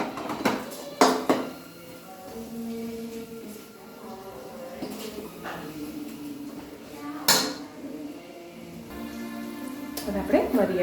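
Spoon clatters and scrapes against a pan as crumbled rotlo (millet flatbread) is mashed into a spiced turmeric and chili base for Kathiyawadi vagarelo rotlo, with several sharp knocks amid a soft steady simmer.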